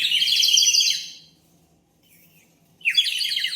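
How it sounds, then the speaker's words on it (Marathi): A handmade terracotta clay whistle filled with water gives bright, warbling birdlike trills, loud and close, in two bursts with a near-silent pause between them. "शिटी आहे ती मातीची, पाणी टाकून वाजवायचे"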